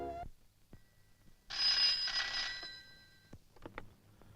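A telephone rings in a domestic scene, a bright trilling burst of about a second, fairly faint with quiet clicks and thumps around it.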